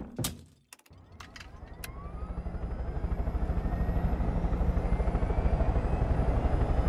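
A helicopter in Far Cry 5 spins up to take off: a few clunks and thumps first, then rotor chop starts, growing louder and faster into a steady, rhythmic whir with a rising whine.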